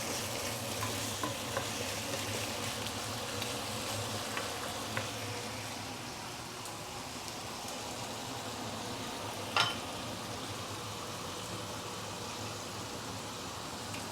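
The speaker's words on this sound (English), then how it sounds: "as you are stir frying your chicken especially, the chicken will also release chicken fat" Chicken stir-frying in a wok, a steady close sizzle and crackle of hot fat that runs the whole time, with an occasional scrape of the spatula stirring.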